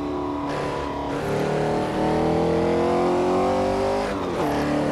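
A 1964 Porsche 904/8 flat-eight roars steadily on the mountain roads of the Targa Florio course, loud and close, its harmonic pitch rising and falling through gear changes with brief dips between shifts.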